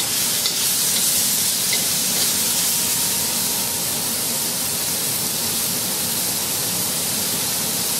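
Meat stir-frying in a wok on a Capital Culinarian range, a dense, steady hiss of sizzling oil that holds constant and loud throughout, with no voices.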